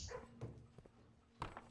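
A dog barks and yips in short separate bursts, a few sharp barks spread over a couple of seconds against a quiet indoor background.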